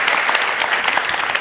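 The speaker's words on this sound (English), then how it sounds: "Give yourselves a round of applause." An audience applauds together in a lecture hall, a dense, steady wash of clapping hands that stays loud and even throughout with no talk over it.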